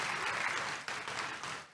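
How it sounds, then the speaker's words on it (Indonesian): A church congregation claps warmly after a call to praise Jesus during an Indonesian sermon, a steady dense wash of applause that holds for nearly two seconds and then tapers off. "Kasih tepuk tangan yang meriah untuk Tuhan Yesus."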